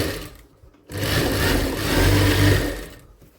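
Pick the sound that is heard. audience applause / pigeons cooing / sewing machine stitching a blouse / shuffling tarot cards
sewing machine stitching a blouse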